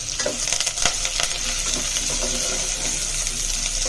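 Sliced onion and curry leaves frying in oil with golden-brown fried potatoes for a leftover potato rice dish, a loud steady sizzle with occasional scraping stirs near the pan.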